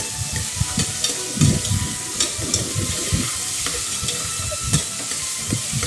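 Beans, carrot and potato sautéed with fennel seeds in a pan give a loud, close, continuous sizzle, with irregular scrapes and clatter from stirring throughout and no voices.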